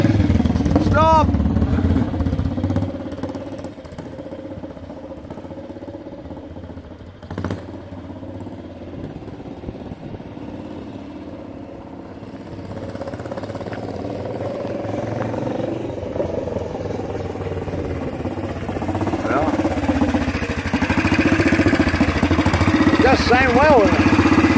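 A 1961 AJS 16MS 350cc motorcycle engine idles and rumbles steadily nearby for the whole stretch, with occasional revs and a few voices talking over it.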